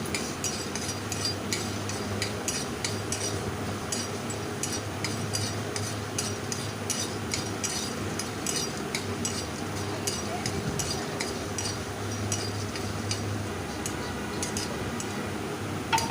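Whole spices, clove, cardamom and black pepper, stirred in a hot pan for banana stem fritters, giving steady light scraping and faint ticking clinks over a continuous low hum throughout.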